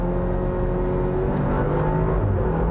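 A 2021 Audi Q5 45 TFSI with a dual-clutch transmission gives a steady, low engine burble. The drone is continuous and fairly loud and stays even, with no voices over it.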